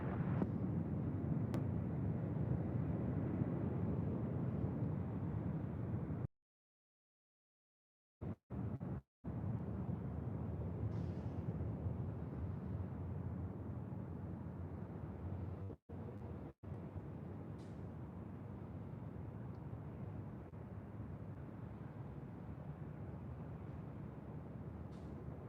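A jet airliner rolls down runway 24 left at LAX on its takeoff run toward JFK, a steady broad distant engine roar that stays even throughout, briefly cut out by gaps.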